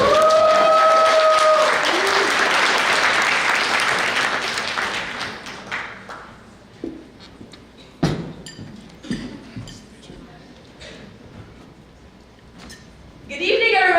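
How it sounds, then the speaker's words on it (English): Applause for a politician at a gala event starts loud and dense, then thins into scattered claps and clinking glassware, with a swell of clapping returning at the end. "round of applause."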